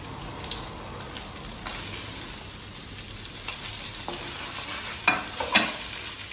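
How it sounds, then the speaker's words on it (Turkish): Thin-sliced onions fry in a pan with a continuous crackling sizzle, broken by occasional scraping stirs and a couple of sharper clinks near the end. "Şöyle ben soğanları, ince soğanları bırakayım."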